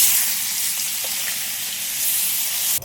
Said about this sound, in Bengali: বাকি মাছগুলো ভেজে নিচ্ছি